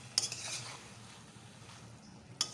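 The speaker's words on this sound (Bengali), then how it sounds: "তো এখন একটু ভালো করে নাড়িয়ে চাড়িয়ে নিই।" Cabbage curry being stirred in a pan, the utensil clinking sharply against the metal at the start and again near the end, with a quiet soft scraping and faint sizzle in between, close up and with no talk.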